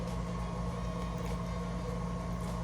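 Vitamix blender whirring through a date dressing, a steady, loud motor drone that holds at an even pitch throughout with no pauses.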